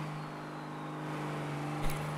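A drag semi truck mod in a video game with a 400 kilowatt nitrous shot, its turbocharged engine droning at a steady high rev with a strong humming tone and a brief louder burst near the end.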